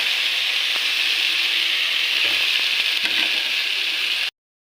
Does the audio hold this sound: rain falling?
no